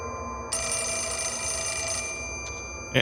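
In the horror video game Fatal Frame 4, a telephone rings with a loud, steady electronic trill that lasts about one and a half seconds and then stops. A brief sharp click follows near the end.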